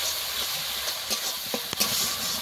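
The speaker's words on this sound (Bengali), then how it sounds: "অল্প একটু জল দেব মশলাটা কষানোর জন্য, যাতে করে পুড়ে না যায়" Spice paste (masala) for egg curry frying in a pan with a splash of water, giving a steady close sizzle and hiss broken by a few sharp stirring scrapes.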